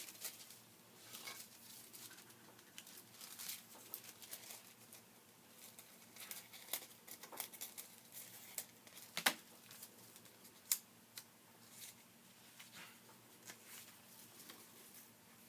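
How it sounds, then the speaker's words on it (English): Scissors cut a Heidi Swapp paper card image, with quiet, scattered snips and light paper rustling in a still room, and no talking. "I'm going to go ahead and try with one of Heidi Swapp's images. I'm going to go ahead and cut some of this."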